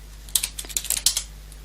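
Quick irregular keystrokes on a computer keyboard, a short burst of crisp close clicks typing a command in a Kali Linux terminal, with no voices.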